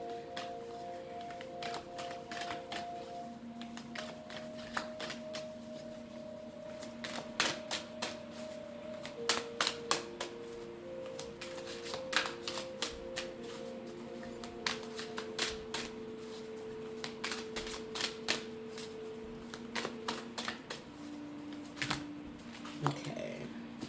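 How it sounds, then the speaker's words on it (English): Archangel guidance oracle cards shuffled by hand, a rapid run of crisp riffling clicks repeating in bursts over a soft, steady tonal background of sustained notes. "I'm going to pull you some Archangel guidance cards."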